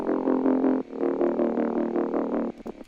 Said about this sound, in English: all I do is I add another gritty bass that sounds like this